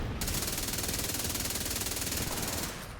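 Sustained rapid automatic gunfire in the video game Division 2, a dense continuous burst, loud and close, lasting almost the whole moment before cutting off, with no voice over it.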